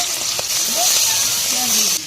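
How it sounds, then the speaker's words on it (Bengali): Prawns frying in hot oil in a wok give a steady bright sizzle throughout, with a few faint clinks and soft background sounds under it, then a slight drop at the end. "কড়ার মধ্যে তেল দিয়ে দেবো, চিংড়িটা ভেজে নেবো"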